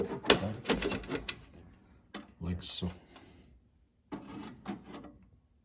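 A pinball machine coin door is opened and closed with a series of close metallic clanks and rattles. Short clattering bursts are separated by pauses.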